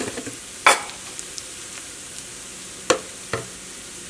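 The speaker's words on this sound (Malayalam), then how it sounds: "അപ്പോൾ നമ്മുടെ ക്യാരറ്റൊക്കെ മുരിഞ്ഞു തുടങ്ങിയിട്ടുണ്ട്." Carrots frying in coconut oil in a pan for broken wheat upma: a low steady sizzle runs throughout, with three sharp clinks or scrapes of stirring standing out, close by and with no talk.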